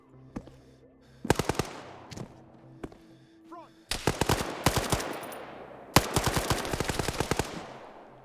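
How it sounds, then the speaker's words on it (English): Arma 3 gunfire crackles in sharp bursts and single shots, some close and loud, others more distant, with ringing echoes trailing between volleys. "is he shooting at me or is he shooting at the scavs?"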